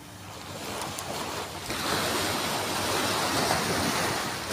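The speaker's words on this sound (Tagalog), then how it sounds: "Nasa tabing dagat tayo." Ocean waves wash onto a beach in a steady, broad surf roar with wind buffeting the microphone, swelling louder partway through and staying continuous, with no voices.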